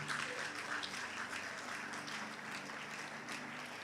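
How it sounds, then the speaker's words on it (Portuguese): Church congregation applauding together, a dense, steady wash of clapping that holds at an even level throughout, with no talk over it. "Você pode aplaudir o Senhor?"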